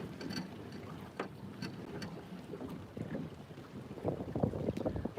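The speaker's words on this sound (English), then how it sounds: "We still got wind on us" Wind gusts rush over open water beside an anchored boat, a steady low roar with faint knocks and creaks from the hull, and no voices.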